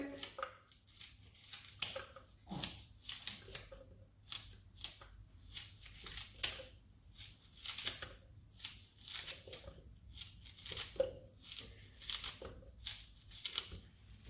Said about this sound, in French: je vais couper des oignons verts dans le wok